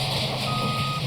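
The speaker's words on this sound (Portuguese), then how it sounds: "Os caminhões estão aí." Garbage truck reversing, its backup alarm sounding a steady high beep over the low idle of the engine, loud and close, with no talk.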